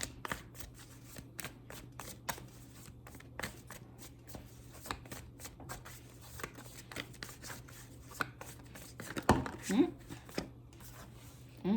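Tarot cards riffle and slap in repeated close shuffling strokes, with a steady rhythm that loosens toward the end while someone talks softly alongside.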